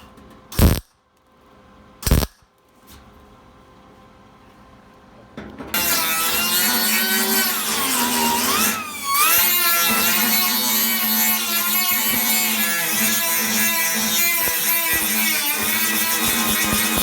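An angle grinder works on the body of a Chevy pickup, starting after a few sharp knocks with a loud, steady, high-pitched whine that keeps going, its pitch dipping and recovering partway through.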